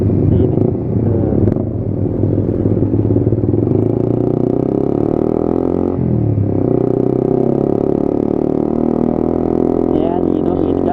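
A Suzuki GSX-R 150 motorcycle engine revs steadily in third gear, dips briefly as it shifts up without the clutch, then pulls on at a loud, close drone.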